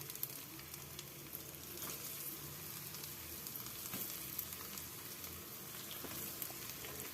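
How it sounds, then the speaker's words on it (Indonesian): Tempeh fries in hot oil for a Sundanese ulukutek leunca dish, giving a steady, dense crackling sizzle with scattered pops throughout, fairly close and with no voices. "Lalu masukkan ke dalam minyak yang sudah panas."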